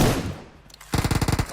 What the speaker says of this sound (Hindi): अब यहां पर कोई दूर से भी गोली चला रहा है